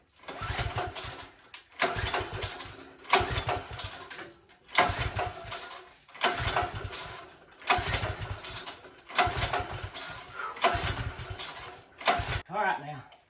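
A Manco 126cc Dominator go-kart engine revs in repeated loud bursts, roughly seven surges of throttle each cut off by brief drops, with a little talk near the end.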